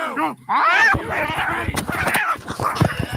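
People yowl and meow in exaggerated cat-like cries, voices imitating cats, overlapping and rowdy, with shouts and scuffling mixed in close by.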